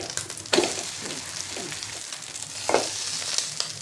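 A breakfast item sizzles steadily in a pan after being flipped, a soft continuous frying hiss with a few brief scraping or clinking touches, fairly quiet and with no voices.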